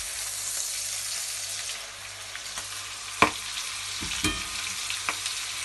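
A pork chop pan-roasting sizzles with a steady, close hiss, with a sharp clack and a few soft knocks as it is turned over.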